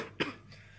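A single short cough from a woman presenting her small grocery stall, one sharp burst followed by a faint trailing rasp over quiet room tone.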